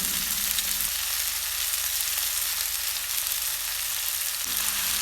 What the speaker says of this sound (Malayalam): ഇതിലേക്ക് സവാള വറുത്തതും ചേർത്ത് നല്ലോണം ഫ്രൈ ചെയ്തെടുക്കണം